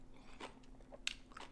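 Crunchy homemade sauerkraut with juniper and caraway being bitten and chewed, a few close, crisp crunches spaced irregularly in a quiet room.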